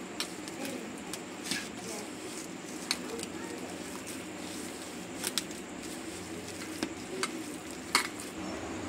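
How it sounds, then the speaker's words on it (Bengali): Onion ring batter is kneaded by hand in a bowl, giving a steady wet squishing texture with scattered small clicks and taps, moderately close and fairly quiet. "একটু ভালো করে আগে এবার হাতের সাহায্যে মাখিয়ে নেবো"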